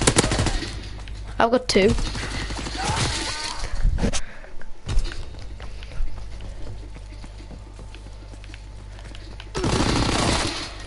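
Rapid automatic fire from a PPSh submachine gun in a Call of Duty World War II game, loud bursts at the start and again near the end, with a player talking and water splashing in between.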